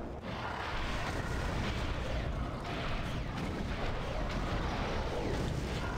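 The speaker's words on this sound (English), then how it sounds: "we're just spamming rockets at this guy" Rockets fired repeatedly and exploding in Doom 3: Resurrection of Evil, a dense, continuous barrage of loud booms and blasts with almost no pause, a voice faint beneath.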